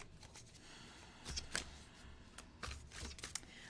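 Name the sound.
shuffling tarot cards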